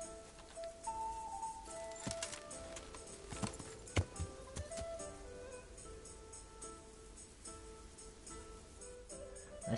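Horse hooves clip-clopping in the video game Kingdom Come, a faint, steady walking rhythm of hoofbeats with a few sharper knocks over quiet game ambience.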